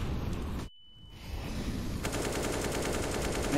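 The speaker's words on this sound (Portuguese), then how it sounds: "olha aí os disparos do Zayu" Rapid automatic gunfire in Counter-Strike on the Nuke map, a dense burst of shots that cuts to a brief silence, then resumes as a sustained rattle of fire through the rest of the clip.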